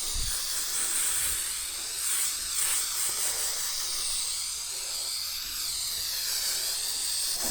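A continuous hissing spray of prep solvent onto a 1968 Ford Mustang hood runs steadily for several seconds, close up, with slight surges in pressure.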